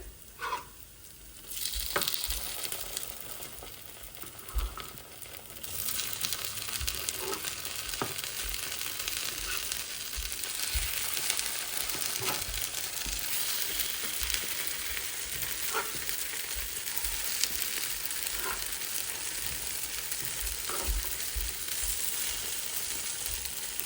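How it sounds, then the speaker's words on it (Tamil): Gundu dosa batter frying in a covered pan, a steady close sizzle running throughout with scattered small pops and clicks as the dosas are flipped, no voices. "ஒரு பக்கம் வேகிட்டு மற்ற பக்கம் திருப்பி விட போகிறேன்"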